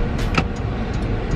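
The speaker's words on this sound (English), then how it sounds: "now I'm in the car" Interior of a car, a steady close rumble of cabin and road noise with a couple of faint brief clicks and no talking.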